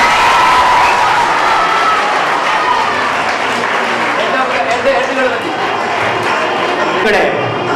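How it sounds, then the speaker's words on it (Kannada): A school audience applauds students at an annual gathering, loud sustained clapping from a large crowd with scattered cheers, continuing strongly for the whole stretch. "ಸೇರಿರ್ತಕ್ಕಂಥ ಎಲ್ಲ ಹಿರಿಯರು ಒಂದು ದೊಡ್ಡ ಚಪ್ಪಾಳೆಯಿಂದ ನಿಮ್ಮನ್ನು ಅಭಿನಂದಿಸ್ತಾರೆ"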